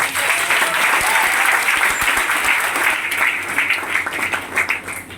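A crowd applauding, loud and continuous, many hands clapping together in a dense, steady roar for several seconds.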